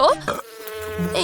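A bee buzzes close by in a short, steady drone, heard almost alone.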